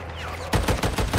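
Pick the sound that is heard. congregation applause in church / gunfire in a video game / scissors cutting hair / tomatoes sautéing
gunfire in a video game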